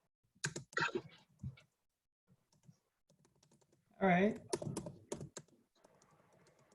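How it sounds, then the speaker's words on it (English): Computer keyboard typing comes in short clustered bursts of clicks, close and fairly quiet in an indoor room, with a brief spoken remark in between. "I'm typing that up."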